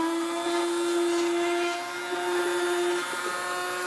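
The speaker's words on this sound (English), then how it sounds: "As soon as this is done blending, and just make sure everything is blended and nice and smooth" A blender running hot, cooked vegetables for an Instant Pot taco dinner, giving a loud steady motor whine with a strong fixed pitch that dips slightly midway, with no talk.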